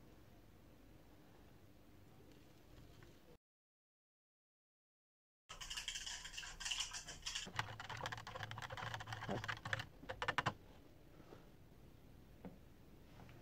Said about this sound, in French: Tu vas verser du sel et moi, je vais mélanger au fur et à mesure.